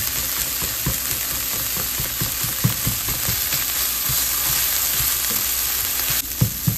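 Chicken paratha filling fries steadily in a pan, giving a continuous close sizzle broken by repeated knocks and scrapes of a spatula stirring and breaking it up.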